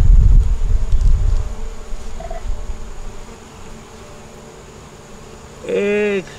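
Honey bees hum around an open, honey-bound hive during an inspection, with a low steady drone, some handling knocks early on and a louder buzz close by near the end.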